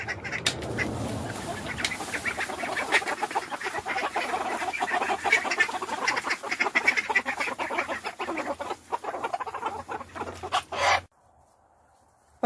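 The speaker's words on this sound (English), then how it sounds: "Is that duck chasing him around again?" A drake duck chases a rooster among chickens and silky hens, loud quacking and clucking with flapping and scuffling throughout, ending abruptly.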